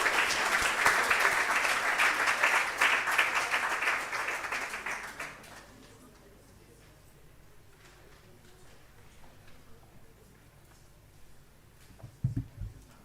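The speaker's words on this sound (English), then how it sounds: "Please let's meet her with a round of applause." Loud, dense applause from an audience at a closing ceremony, sustained for about five seconds before fading out to a quiet room, followed by a couple of faint thumps near the end.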